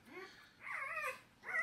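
Three-day-old XL American Bully puppies whimpering, thin high squeaky cries in a few short bursts, near and fairly quiet, with a soft rising whine at the end.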